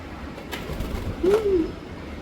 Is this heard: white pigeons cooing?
yes